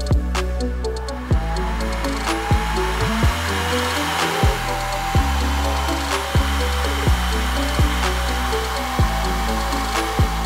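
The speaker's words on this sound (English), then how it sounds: "Let's check if it affects the suction power of the fan." A strong fan on a Creality K1 3D printer runs loudly and steadily with a constant whir, broken by a series of regular sharp clicks or pulses and one short dip partway through.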